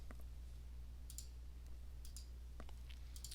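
Mouse clicks in scorecard software, several light sharp ticks in small clusters over a steady low hum, close and quiet, with no voice.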